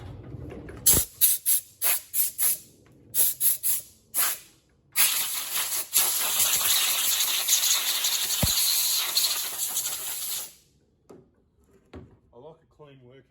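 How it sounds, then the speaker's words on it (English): Compressed air blows in a workshop while working on a Zodiac CX20 pool cleaner: several short, sharp hissing bursts, then one long sustained blast, loud and close, followed by quieter handling noises. "I'm just going to grab the compressed air for a minute"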